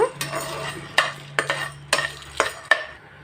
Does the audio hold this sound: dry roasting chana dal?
yes